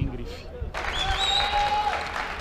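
Stadium crowd at a football match with Cruzeiro taking the field, a short burst of applause and crowd noise rising after a quiet start, with a whistle-like tone and a commentator's voice over it.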